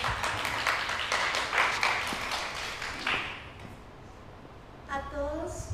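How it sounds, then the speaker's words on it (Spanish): Applause breaks out from a live audience at a spoken presentation, several seconds of dense clapping that fades out, followed by a voice beginning to speak. "Muchas gracias y un aplauso para ti"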